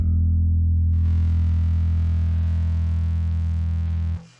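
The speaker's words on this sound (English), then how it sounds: "So now I'm gonna bring in the distortion." A single sustained low bass note from a bass guitar through a NUX MG30 distortion effect, thick and fuzzy with heavy distortion, holding steady for several seconds before cutting off abruptly.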